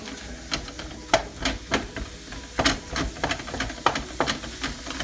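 Ground beef sizzles in a hot pan while a utensil repeatedly scrapes and breaks it apart, producing irregular sharp clacks and scrapes over a steady hiss.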